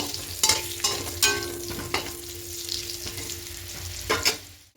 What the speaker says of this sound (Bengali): দিয়ে আলুগুলোকে একটু হালকা লাল করে ভেজে নেব।